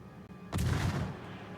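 A tank cannon fires once in a World of Tanks match, a single loud boom with a sharp crack that rolls off into a rumbling decay over about a second, alone without voices.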